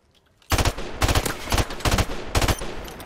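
Bursts of automatic gunfire ring out in rapid clusters of loud, close shots through walls during a Search and Destroy match in Modern Warfare Remastered, with brief pauses between volleys.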